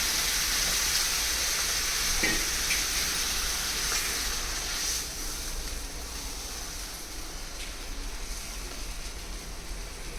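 Water poured into a hot pan while cooking uppudu pindi (rava) gives a steady, loud broadband hiss of steam that runs continuously and eases slightly about halfway through, with no voices.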